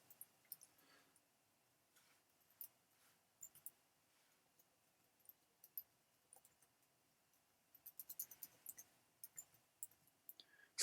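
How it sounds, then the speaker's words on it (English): Keys on a Sinclair ZX Spectrum computer keyboard are pressed in soft, sparse clicks, faint and irregular, with a quicker cluster near the end and no voices. "Keyboard."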